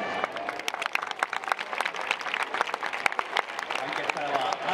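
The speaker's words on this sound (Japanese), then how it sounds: "観客からは拍手が沸き上がっていますが" Crowd applause ripples through a baseball stands at Jingu Stadium, dense sharp clapping with a hum of fans beneath, holding steady and moderately loud throughout.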